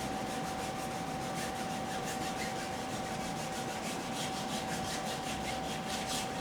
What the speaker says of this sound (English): I'm just rubbing in some paint